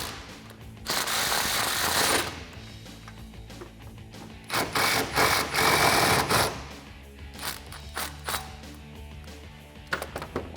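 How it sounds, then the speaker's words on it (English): A ratchet with an extension, a swivel socket and a 16 socket turns a nut while a K&N cold air intake is fitted on a 2011-2020 Challenger 5.7L. Bursts of rapid, close mechanical clicking start and stop. "I'm using an extension, a swivel socket, and my 16 socket right against that nut there"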